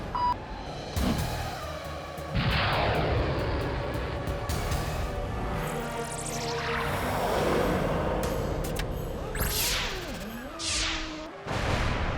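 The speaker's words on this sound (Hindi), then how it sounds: "laser gun" Cartoon laser guns fire from a weapon mounted on a go-kart, loud sweeping zaps and descending whooshes repeating over several seconds with blasts and crashing bursts, close and alone without talk.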